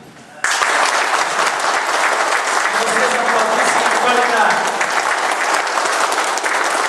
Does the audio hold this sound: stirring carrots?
no